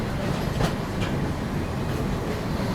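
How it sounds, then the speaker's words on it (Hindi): Chennai Express train leaving Mumbai CSMT, a loud steady rumbling roar of rolling carriages heard from on board, with faint rhythmic clacks, no talk. "चलिए CSMT से दोस्तों अपनी ट्रेन निकल चुकी है"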